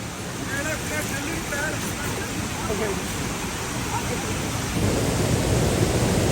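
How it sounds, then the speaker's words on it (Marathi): Heavy monsoon rain pours down steadily at Satsada waterfall while voices talk over it; the downpour swells louder near the end. "आणि आता पाऊस पण आलेला आहे"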